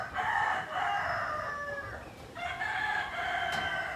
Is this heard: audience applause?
no